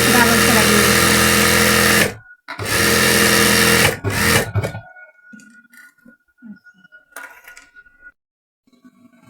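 A sewing machine runs in two loud, close bursts of fast stitching while double-stitching a salwar, separated by a short pause, followed by faint handling sounds and quiet talk.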